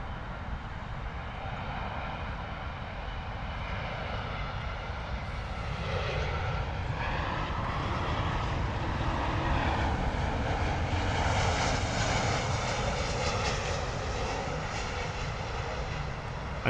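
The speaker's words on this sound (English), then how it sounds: "A320neo coming in from Munich. Beautiful touchdown" Lufthansa Airbus A320neo landing at London Heathrow after a flight from Munich, a soft continuous engine rush growing a little louder in the second half, fairly distant and free of voices.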